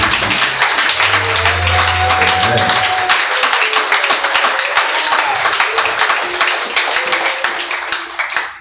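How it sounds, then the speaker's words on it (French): A church congregation claps loudly in praise of the Lord, a dense ragged burst mixed with sustained tones and voices, thinning into scattered claps toward the end. "applaudissons très fort le Seigneur."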